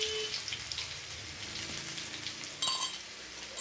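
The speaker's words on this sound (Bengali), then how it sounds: "হালকা তেলের মধ্যে নেড়ে চেড়ে নিয়ে এখানে দিয়ে দিচ্ছি 1 চামচ পরিমাণ রসুন থেতো।" Crushed garlic frying in a little oil, a soft continuous sizzle with a brief clink of a utensil near the end, no speech.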